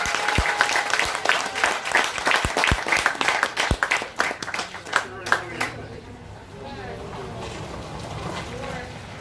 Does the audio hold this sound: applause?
yes